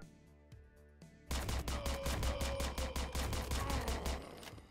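Sustained rapid gunfire from a SWAT squad shootout in the top-down tactical game Door Kickers: Action Squad, loud and dense with steady repeated shots after a quieter opening with a few isolated sounds.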